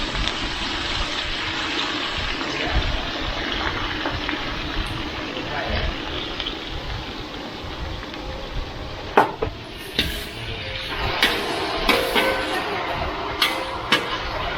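Vegetables are rinsed under running water in a kitchen before stir-frying glass noodles, a steady splashing stream with intermittent clatters and knocks near the end.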